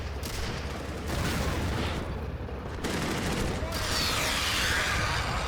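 Panzerschreck rocket launchers fire in the Steel Fury tank game amid a dense, loud battle, with heavy blasts and rumbling gunfire layered over continuous combat noise.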